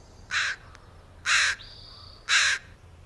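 Three harsh crow caws in an even rhythm, about a second apart, clear against a quiet background.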